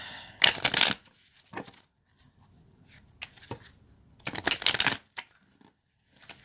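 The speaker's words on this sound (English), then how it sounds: "Spirit's going to let me know exactly when to stop shuffling." A deck of playing cards being shuffled, crisp riffling bursts near the start and again around the middle, with a few lighter shuffles and taps between, close and fairly quiet with no talking.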